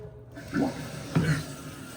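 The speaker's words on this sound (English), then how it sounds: "Turn the water back on to the toilet." Water rushes and trickles into a canister-style toilet tank in two brief surges, a soft steady hiss beneath, fairly close with no talking.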